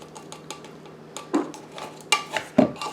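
Utensil stirring all-purpose flour and baking powder together in a bowl, a series of light scraping clinks and taps against the bowl, irregular and fairly quiet, with a few sharper knocks near the end.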